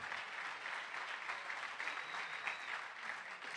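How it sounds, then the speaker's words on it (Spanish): A church congregation claps in sustained, dense applause for the Lord during a Spanish-language service, a steady wash of many hands heard at moderate distance with no break. "Denle la ofrenda de palmas al Señor"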